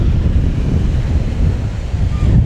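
Surf and blustery wind on an Australian beach: a loud, continuous low rumble of waves with heavy wind buffeting the microphone, no distinct individual breakers and no voices.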